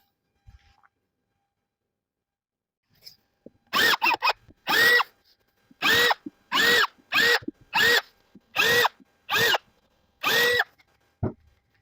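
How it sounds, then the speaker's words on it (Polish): A small drill with a 2 mm bit whirs in about nine short bursts, drilling pilot holes for a narrow cargo cabinet, separated by brief pauses, close and clear against otherwise quiet surroundings. "I teraz wiertełko dwójka i nawiercamy sobie te miejsca."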